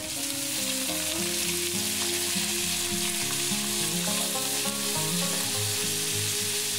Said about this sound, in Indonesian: Baru kemudian kita masukkan daging cincangnya.